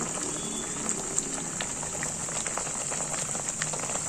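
Tamil egg curry with curry leaves, eggs cracked straight into the pot, simmering: a soft continuous bubbling and popping at low, even volume with small irregular blips, no talk.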